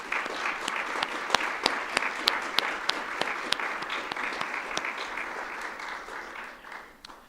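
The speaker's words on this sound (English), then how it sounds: "giving a round of applause to all of our remarkable Trailblazer Award nominees" Applause from an awards celebration audience for Trailblazer Award nominees, with individual sharp claps standing out over a sustained crowd clatter that fades toward the close.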